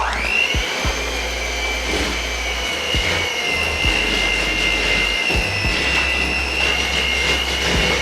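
An electric mixer churns chocolate chip cookie dough with a loud, steady high-pitched motor whine and occasional low thumps as the beaters work through the dough, close and continuous throughout.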